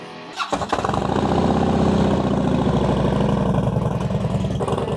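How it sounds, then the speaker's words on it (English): A Harley-Davidson Dyna Low Rider with a Bassani 2-into-1 exhaust fires up after a short cranking stutter, then settles into a loud, close, deep and lumpy idle that rumbles on steadily. "Out with Ninja Nate and the new Harley Dyna Lowrider."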